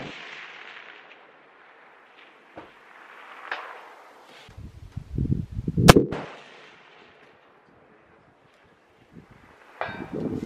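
A single sharp, loud .338 Lapua rifle shot fired at a long-range target cracks out midway, with low rumbling noise before it and a quieter background afterward; no talking.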